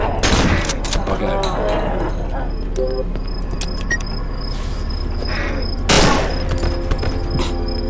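Gunfire from a large weapon in the horror video game Cry of Fear, with loud bursts of shots at the start and again near six seconds, and a high steady tone and game ambience between them.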